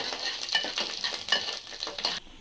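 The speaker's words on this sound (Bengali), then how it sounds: "এবার একটু নাড়াচাড়া করে," Rhythmic scraping strokes as a spoon stirs spices, cashews and raisins around a hot pan for sweet Bengali basanti pulao, with a light sizzle underneath and no talking.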